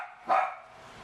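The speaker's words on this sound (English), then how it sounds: "Excuse my dog." A single short dog bark rings out nearby in a quiet room, one sharp yap followed by a faint, fading hum.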